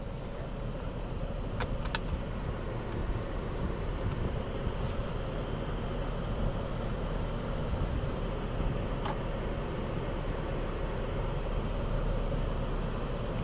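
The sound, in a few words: Genesis G90 3.5T e-SC car driving on road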